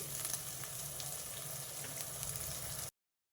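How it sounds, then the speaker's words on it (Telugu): Cauliflower and green peas fry in hot oil, giving a steady, close sizzle with light crackles for a few seconds before cutting off abruptly. "ఇవి కొంచెం ఆయిల్లో వేగాలి, వేగితే తొందరగా మగ్గుతాయి"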